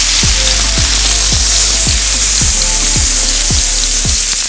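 Salmon fries in a pan for coconut curry, a loud, dense, close sizzle that holds steady throughout, with a low thump recurring roughly every half second underneath and no one speaking.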